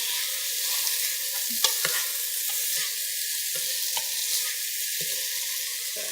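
Seasoned rice for Puerto Rican rice and chicken sizzles in a pot on high heat, a constant bright hiss punctuated by irregular scraping and knocking as it is stirred, with no one speaking.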